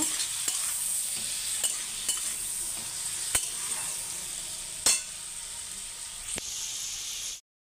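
Drumstick curry with potato and tomato is stirred with chili powder, turmeric and salt in a pan, a soft continuous sizzle broken by sharp, irregular spatula clicks against the metal.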